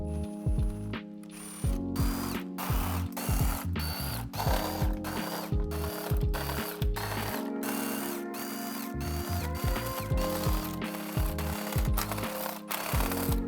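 Ratchet with a deep socket backing out valve cover bolts on a BMW F80 M3 engine: close, loud bursts of rapid pawl clicking repeating in quick strokes, with short pauses between them and no talk.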